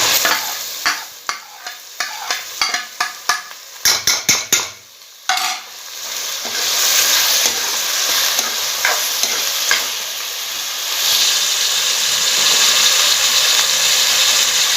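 Minced meat with tomatoes stir-fried in a pan: a spoon scrapes and clanks against the pan in quick strokes, then a loud, steady sizzle takes over.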